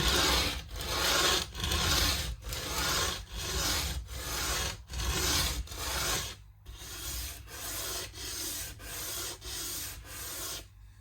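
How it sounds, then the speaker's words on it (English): Wooden feet for a Rally Big Apple jazz hollow-body guitar are sanded by hand, a close, loud rasping with regular back-and-forth strokes about twice a second, easing slightly softer toward the end. "I'm going to just hand sand this"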